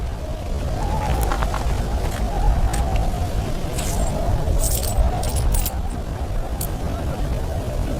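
A small handful of coins jingles and clinks in bright bursts over a steady low background rumble, the metallic taps scattered unevenly and fairly close.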